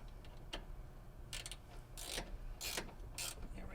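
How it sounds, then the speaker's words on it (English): A wrench tightening bolts on old metal, several short bursts of ratcheting clicks separated by brief pauses, close and fairly quiet, no talking. "Tighten this one down a little bit before I take my wrench."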